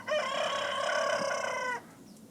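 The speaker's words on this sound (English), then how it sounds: "The roosters have been going off since about 4:30 this morning" A rooster crows in the early morning in Otavalo, Ecuador, giving one clear, sustained cock-a-doodle-doo of under two seconds, moderately distant and alone against a quiet background.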